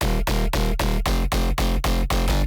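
Mid bass synth run through distortion and OTT in FL Studio for a drum and bass drop, a dense, loud, gritty pulse chopped into regular rhythmic hits by sidechain ducking.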